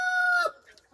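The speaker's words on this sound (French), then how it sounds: "il y a les coqs qui chantent." A rooster crows loudly and close, one harmonic held call that breaks off after half a second, followed by faint scattered farmyard noises.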